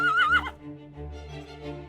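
A horse gives a single short whinny, a bright wavering neigh that rises and falls over about half a second, then trails into a low breathy snort, close and fairly clear with no talk.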